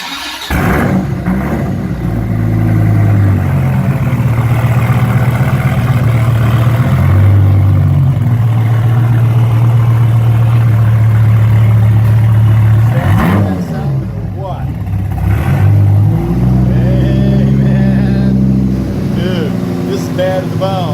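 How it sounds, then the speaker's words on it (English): A 2002 Hennessey Viper fires up from a cold start, its loud engine settling into a steady, rumbling idle that swells and drops briefly midway before resuming, with voices faintly audible over it. "we're gonna do a cold start video on this car here"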